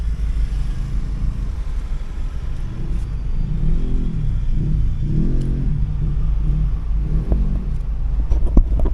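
Road traffic at a busy market-mall gateway in Angeles City, Philippines: a steady low rumble of cars and motorcycles, with engines revving and passing close by in rolling swells, and no talk.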